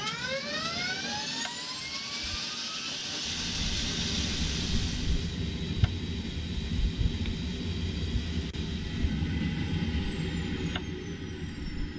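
An aircraft auxiliary power unit spools up in a flight simulator during a cold-and-dark start, a rising turbine whine that climbs steadily in pitch and settles into a loud, continuous high whir over a steady roar.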